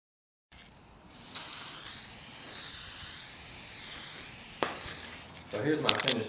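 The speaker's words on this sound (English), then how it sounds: "Did 3 coats of spray-on lacquer, and it's got a nice gloss finish to it." Spray-on lacquer misted onto a small wooden headphone stand and catch-all tray, a steady close hiss running for several seconds with a brief break and short bursts near the end.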